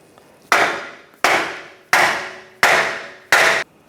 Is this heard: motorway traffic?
no